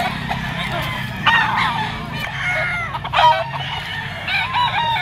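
A young rooster (stag) crows at a Sunday chicken market, the crow rising over clucking and honking from other fowl nearby, fairly close.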